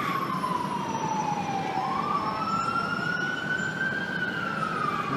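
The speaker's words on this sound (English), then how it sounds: "I think it's an ambulance." A wailing St. Luke's Roosevelt Hospital ambulance siren sweeps up and down continuously, fairly loud over a dense rumble of street traffic at 65th Street and Broadway, Manhattan.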